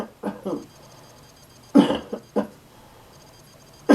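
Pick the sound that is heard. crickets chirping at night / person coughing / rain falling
person coughing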